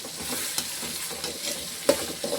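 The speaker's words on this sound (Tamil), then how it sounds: "இப்போ இந்த வெங்காயம் வதங்கிறதுக்கு உப்பு போட்டுக்கிறோம்." Onions sautéing with salt in a pan for a Tamil fish curry, a steady close sizzle with stirring scrapes and a couple of sharper clinks toward the end, no talk.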